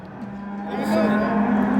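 A single cow at a livestock market gives one long, deep moo that swells louder toward the end, close and clear over a faint background murmur.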